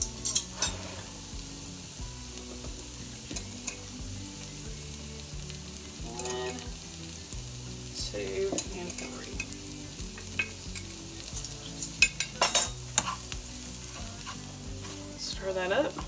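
Flour being stirred in a hot soup pot, soft scraping and stirring over a gentle sizzle, with occasional spoon clinks against the pot rim, close and fairly quiet.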